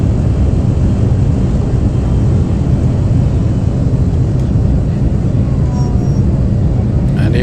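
ATR turboprop airliner engines in the P3D flight simulator spool up for a takeoff roll at Barcelona, giving a loud, steady broadband roar that holds throughout.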